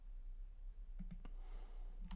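A computer mouse clicking in a quiet room, a few sharp, faint clicks spaced out over a steady low hum.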